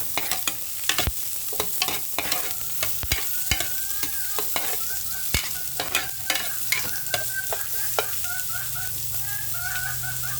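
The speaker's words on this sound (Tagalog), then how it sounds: "Then, sibuyas. Haluin po natin." Onions frying in a pan for spaghetti sauce are stirred, giving a steady sizzle broken by repeated scraping strokes of the utensil, while a fowl clucks faintly in the background.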